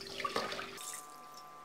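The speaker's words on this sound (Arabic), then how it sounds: "غادي ناخد الكاسرول، غادي نضيف فيه الحليب" Milk poured into a saucepan for a layered orange cake, a brief, quiet liquid splash and trickle with a faint high ring near the end.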